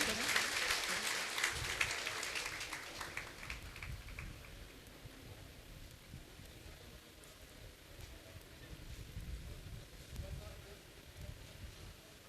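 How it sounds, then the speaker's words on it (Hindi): At a welcome and honour ceremony, applause starts fairly strong and then thins into scattered, fading claps amid background murmur and some talking. "एक बार जोरदार तालियों से स्वागत करें।"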